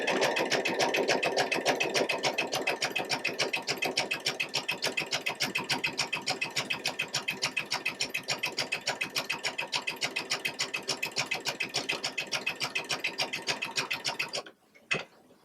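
A Baby Lock sewing machine fitted with a fringe/looping foot stitches in a fast, steady mechanical rhythm for about fourteen seconds, then stops with a few clicks at the end.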